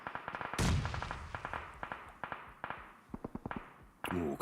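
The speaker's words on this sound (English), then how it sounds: "Ooh, a couple of pot shots." Gunfire in the mobile battle royale game PUBG Mobile during an esports championship match: rapid bursts of sharp cracks and pops, some closer and louder, one heavy blast, with scattered shots continuing in a tense rhythm.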